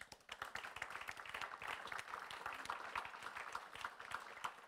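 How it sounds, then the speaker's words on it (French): Audience applause after a speaker's talk at a panel on the EU green taxonomy, a steady patter of handclaps lasting several seconds with no voices over it. "Je crois qu'on peut l'applaudir"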